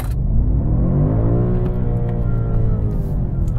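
2021 BMW M5 performing a launch, a loud close engine roar with rising harmonics as the car accelerates hard, a steady powerful rumble throughout.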